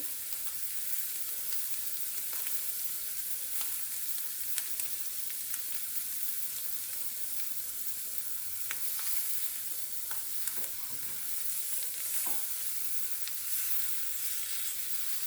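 Halloumi cheese sizzles and spits steadily in a hot pan, with a constant frying hiss and occasional sharper pops and crackles.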